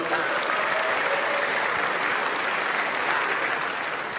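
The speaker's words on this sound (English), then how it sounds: "I think Nigeria deserves a big round of applause" Broad, steady applause from a crowd honouring Nigeria on its independence during a live performance, continuous and fairly loud with no break.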